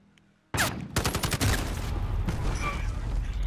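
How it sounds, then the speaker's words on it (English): Gunfire in Call of Duty: Modern Warfare: after a quiet start, a sudden loud blast gives way to rapid sharp bursts of automatic fire that roll into sustained, heavy shooting close by. "Shot directly at your face and it went sideways"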